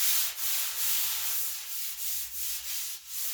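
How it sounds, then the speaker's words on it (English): Hand sanding with 80-grit paper scrapes thick red paint from the fender of a 1978 Ford F-100 Custom truck, a steady close rasp in about nine rhythmic back-and-forth strokes, with no talking. "Well, I started sanding the fender."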